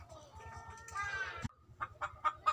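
A domestic hen about to lay eggs clucks and squawks loudly in rapid repeated bursts, with a steady rhythmic low thumping underneath and a brief pause midway before the clucking resumes.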